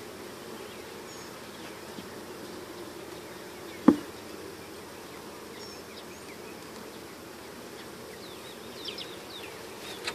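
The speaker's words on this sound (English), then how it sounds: "There's a lot of bees flying around here" Bees buzz steadily around an open hive while a packaged colony is installed, a soft continuous drone with one sharp knock partway through.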